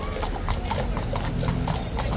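Hooves of King's Guard horses ring out at Horse Guards in a dense, steady clatter of overlapping clip-clops nearby, over a background of crowd noise.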